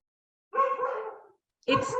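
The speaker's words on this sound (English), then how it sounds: "sorry about the dogs barking there." Dogs barking indoors in the background during a talk, two short bursts of yapping barks separated by a pause, moderately faint and alone.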